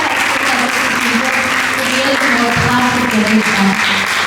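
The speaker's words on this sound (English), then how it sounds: "Let's give a huge round of applause for all our" Applause from a school seminar audience at St. Raphael's Academy, Indore, a steady wash of clapping that runs loud the whole way through with some voices mixed in.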